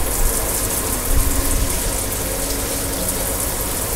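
A steady, loud rush of water pouring from a shower, continuous and unbroken throughout.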